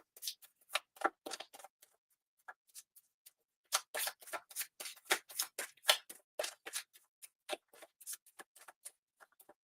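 A deck of cards being shuffled by hand, with rapid riffling bursts and soft ticking flutters, sparse at first and then dense and steady, close and fairly quiet with no talking.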